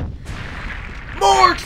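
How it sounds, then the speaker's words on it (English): Explosions in the video game Disaster Report: a muffled low boom rumbles through the first second, then a sharper, louder burst with a ringing tail near the end. "More explosions!"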